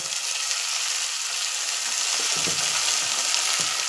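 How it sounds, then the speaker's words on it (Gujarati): Leafy greens tempered in hot oil give a continuous close sizzle, with a few soft stirring knocks toward the end. "ભાજીનો વઘાર મારી દીધો છે."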